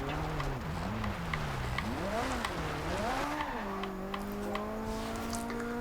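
A 2015 Ferrari 458 Speciale's engine in the racing game Forza Horizon 2 sweeps up and down in pitch as it is driven at half throttle in third gear through corners, then holds a steadier tone, with faint tire noise.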